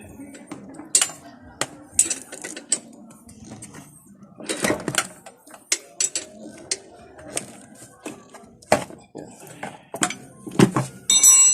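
Bolts being removed from the carburetor of a Suzuki Smash 115 motorcycle that stalls when the throttle is twisted, with scattered metallic clinks, taps and tool knocks, close up, mixed with talking.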